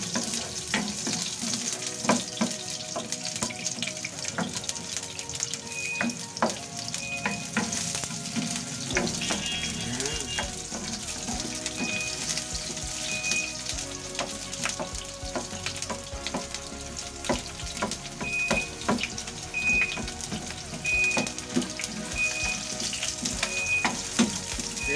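Chopped onions sizzle steadily in a hot pan for a Filipino vegetable egg foo yong, a constant bright crackle with occasional stirring scrapes and clinks, close and fairly loud, with no talking.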